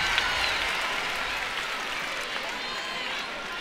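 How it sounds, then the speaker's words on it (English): A crowd at a college gymnastics meet between Arkansas and LSU applauds and cheers in a sustained, dense wash of clapping, with a commentator talking over it. "She's got a big cheering section just on the side of the mat."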